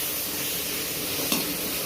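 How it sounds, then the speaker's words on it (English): A steady sizzle of tomatoes and onions frying in a kadai, with a brief stirring scrape near the end. "This tomatoes into this kadai, and I will fry it."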